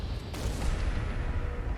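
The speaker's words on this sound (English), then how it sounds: "the explosions are still following him around" Explosions from the Quantum Blaster in the video game Fallout 4: a sharp blast bursts in after a short pause, then a rumbling, crackling tail rolls on loudly with no speech.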